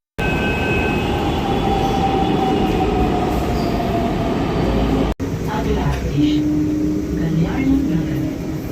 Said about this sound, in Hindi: हमारी मेट्रो आ चुकी है